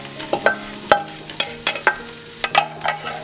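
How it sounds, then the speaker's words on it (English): Crispy shrimp tipped into a pan of sautéed onions for cinnamon fried rice, heard as a run of close, sharp scraping and clattering strokes of a utensil against the pan over a light sizzle. "we'll remove it from the heat and dump it in our sauteed onions"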